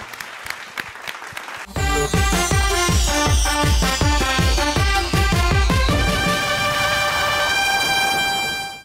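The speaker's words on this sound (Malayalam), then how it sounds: "അപ്പോ സെന്തിലിന് വേണ്ടി ഒരു വലിയ കൈയടി കൊടുക്കാം." Circus audience clapping for the performer Senthil, a dense burst of applause, then a loud brassy horn fanfare sounds in repeated blasts and swells to a sustained final chord.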